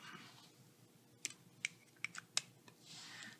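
Keys are tapped on a computer keyboard while a math example is written out: a handful of sharp, separate clicks over a faint steady background hiss.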